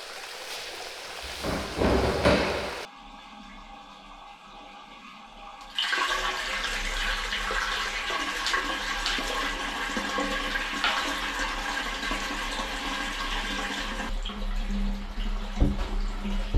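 Water pours into a garage floor drain that feeds a sand-catching box ahead of a buried Class I oil separator: a steady, rushing flow starts after a brief splash and runs on at fairly loud, even strength with no talking.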